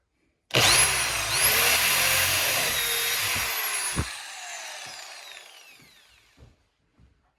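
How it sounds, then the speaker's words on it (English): A power drill bores a hole into a cabinet corner, its motor starting abruptly and whirring steadily for several seconds before winding down into a few light knocks and handling sounds. "Now we're gonna drill us a hole in the corners so we can get the jigsaw going."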